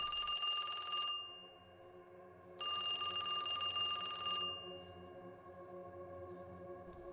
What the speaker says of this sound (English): Minutes later, the phone rings again.